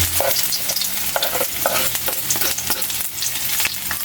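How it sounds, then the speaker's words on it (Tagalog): Ginger sizzling steadily in a hot pan as it is stirred, with irregular scraping clicks of a utensil over continuous close frying crackle; no talking. "Ikot lang natin yan. Natin maluto yung luya, maging golden brown."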